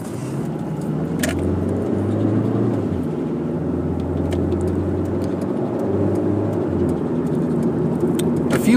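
Steady interior rumble of a car engine and road noise while driving, continuous and fairly loud, with a few faint jingling clicks of keys or loose items.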